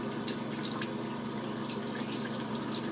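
Hot tap water runs continuously into a sink while makeup brushes are washed, a steady loud hiss and splash with no pause and no talking.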